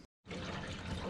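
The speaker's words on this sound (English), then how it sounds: "Water's going in." Water pouring steadily into a drift car's cooling system, a continuous close-up rushing hiss that starts after a brief silence and carries on without a break.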